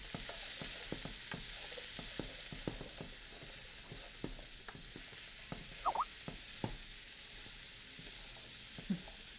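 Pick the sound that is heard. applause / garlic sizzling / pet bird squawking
garlic sizzling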